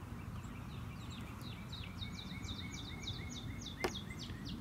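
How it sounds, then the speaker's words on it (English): Outdoor birds sing a repeated series of bright, evenly spaced chirps over a steady hiss of ambient background noise, fairly faint and distant, with one sharp click near the end. "Birds are really enjoying this beautiful weather."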